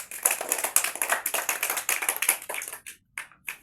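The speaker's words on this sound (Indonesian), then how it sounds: "tepuk tangan dulu untuk Kanis." A school class claps hands together, a quick burst of many overlapping claps that keeps a fairly steady pace before thinning to a few last scattered claps, close and lively.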